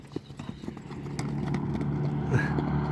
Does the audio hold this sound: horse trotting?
yes